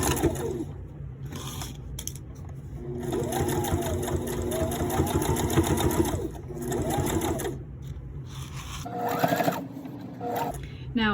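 A sewing machine stitches fabric for a homemade face mask in several rapid mechanical runs with short pauses between them, close and clear, while a person talks over parts of it.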